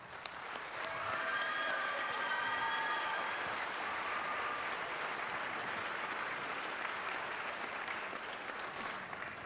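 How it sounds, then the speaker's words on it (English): A crowd at a charity dance competition event gives dancers a sustained round of applause, steady and even throughout, with faint whistles or cheers briefly rising over the clapping. "Please give them another round of applause."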